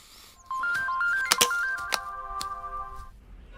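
A mobile phone rings with a bright electronic ringtone, a repeating stepped melody loud and close, broken by a few sharp clicks and thumps before fading out.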